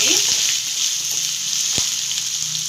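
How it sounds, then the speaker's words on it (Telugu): Curry leaves and chopped green chillies fry in oil for a phool makhana masala gravy, a loud, close, continuous sizzle with a few faint knocks from the pan. "కొంచెం కరివేపాకు ఒక మూడు పచ్చిమిర్చి అండి కట్ చేసుకున్నాను ఇది కొంచెం సాల్ట్ వేసి వేయించుకోవాలండి"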